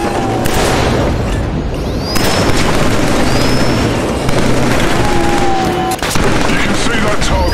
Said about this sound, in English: Try shooting those fire targets in the range.